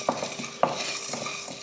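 Whole spices like fennel, pepper, cumin, cinnamon, cloves and cardamom dry roast in a pan, giving soft scraping stirs and light rattles in a short, quiet series.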